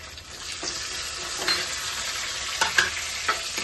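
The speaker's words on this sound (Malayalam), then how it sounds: "ഇനി ഞാൻ അതിലോട്ട് ഒരു ടൊമാറ്റോ അരിഞ്ഞു വെച്ചിരിക്കുന്ന ടൊമാറ്റോ ഇടുവാണ്" Chopped tomato sizzling in hot oil in a pan, a continuous soft frying hiss with a few louder crackles and stirring scrapes, no voices.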